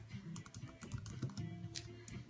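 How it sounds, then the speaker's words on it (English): Rapid, irregular clicking of fingers typing on a computer keyboard, steady and close, with no voices. "Sorry, as I'm typing something in."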